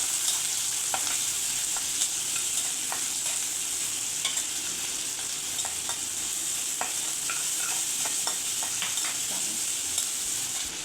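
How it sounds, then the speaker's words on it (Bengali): Chopped tomatoes fry in a pan for hilsa fish curry, a steady, close sizzle running throughout with scattered clicks and scrapes as they are stirred, no voices. "তারপরে টমেটো কুচি দিয়ে দিলাম। এবার এটাকে ভালো করে নাড়াচাড়া করে ভেজে নেব।"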